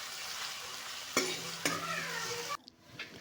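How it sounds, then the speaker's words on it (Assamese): Onions frying with ginger garlic paste in a pan for a paneer and raw banana curry, a steady sizzle broken by two sharp stirring scrapes, then the sizzle drops suddenly near the end. "ইয়াতে দিছোঁ আদা নহৰু পেষ্টটো যাতে কেঁচা গোন্ধটো অকণমান যায় তেতিয়ালৈকে মই ধুনীয়াকৈ ভাজি ল'ম"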